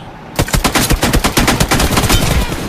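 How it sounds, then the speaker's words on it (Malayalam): Rapid automatic gunfire from a video game team deathmatch, loud and close, bursts of shots rattling in a fast steady rhythm after a brief quiet start. "വെടിവെക്കുന്നുണ്ട്"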